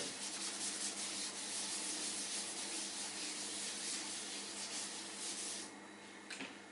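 Writing is rubbed off a classroom board with a duster, steady close scrubbing strokes in a continuous dry rasp, with no talking.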